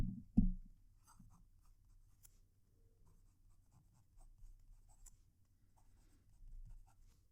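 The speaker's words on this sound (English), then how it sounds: "move the microphone down as close as I can to the paper so that you can actually hear the nibs writing" A fountain pen nib scratches softly across paper in short strokes, close and quiet, with a faint bump near the start.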